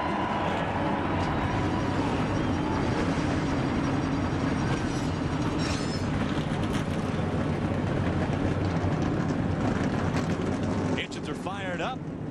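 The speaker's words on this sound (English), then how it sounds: "Drivers, start your engines." Thirty-six NASCAR Craftsman Series trucks fire up together before a race, a loud dense engine rumble filling the track air throughout, with a crowd murmur beneath and a brief squealing burst near the end.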